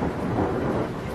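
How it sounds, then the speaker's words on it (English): Thunder rumbles on a rainy day in Wisconsin: a steady, deep, broad roar that fills the whole short stretch at moderate loudness, with no voices. "thunder and lightning all around me"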